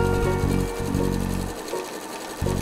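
A sewing machine runs close and steady as it stitches the side of a quilted table mat, its needle chattering rhythmically with a brief slowdown midway before speeding up again.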